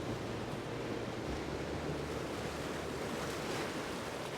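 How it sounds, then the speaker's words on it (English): Ocean surf washes over and separates around shoreline rocks, a steady broadband roar of white water with a low rumble underneath and some wind noise, continuous and fairly loud with no voices. "Whoa, there's another wave."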